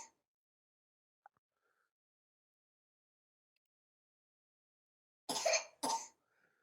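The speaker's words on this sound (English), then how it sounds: "Coughing sound effect." After a long near-silence with one faint tick, a child coughs twice in quick succession, sharp and close, as a stock sound effect.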